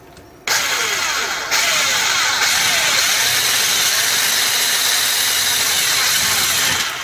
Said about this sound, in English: you've got to be careful drilling this plastic because it is quite fragile